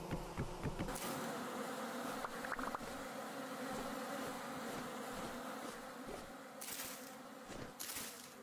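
Bees buzzing around a destroyed hive in the Vintage Story video game, a dense continuous drone with a few louder bursts late on.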